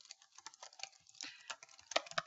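Quick, light clicks of typing on a computer keyboard, a rapid irregular patter of keystrokes close up with no voices.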